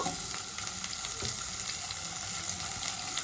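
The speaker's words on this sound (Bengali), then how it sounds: "পেঁয়াজগুলোকে একটু হালকা ফ্রাই করে নেব" Thick-cut onions frying lightly in oil in a wok for a dhaba-style palak paneer, a dense, even sizzle close up and steady throughout with no talking.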